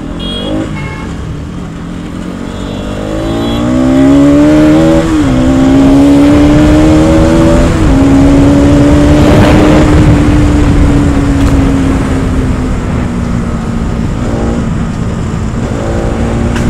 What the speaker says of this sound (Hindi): बाइक में क्या हो गया, बाइक में तो बड़ी गंदी आवाज आ रही है यार